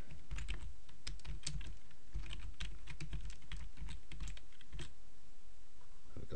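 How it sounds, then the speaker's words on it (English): Keys clatter steadily on a computer keyboard while text is entered into a WordPress sidebar field, a close, continuous run of quick clicks lasting the whole stretch with no voice. "I want to actually type something in it myself"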